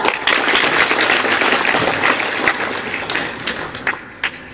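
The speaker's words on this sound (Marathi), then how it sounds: "सुटण्यासाठी जोरदार टाळ्या" Audience applause at a rabies awareness and dog-bite prevention session, a dense burst of clapping that stays steady and loud, then thins into a few scattered claps near the end.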